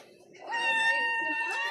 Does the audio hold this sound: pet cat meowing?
yes